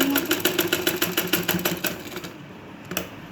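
A sewing machine stitches a blouse sleeve with a fast, even run of needle clatter for about two seconds, then slows and stops, leaving a few faint clicks.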